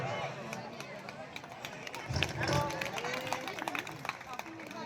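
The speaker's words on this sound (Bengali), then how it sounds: "জোরদার হাততালি।" Applause from an audience at a Trinamool Congress regional political meeting, a steady mass of clapping mixed with crowd murmur that swells briefly midway, with voices in the background throughout.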